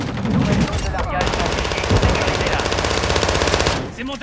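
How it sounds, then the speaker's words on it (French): Loud, close machine-gun fire in Call of Duty II on PS4, a dense unbroken rapid burst of automatic shots lasting several seconds, with voices heard faintly under it. "J'essuie des tirs."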